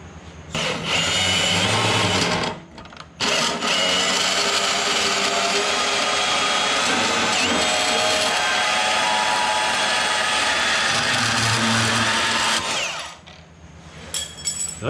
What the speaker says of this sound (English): You just put that on the belt sander and take out that edge.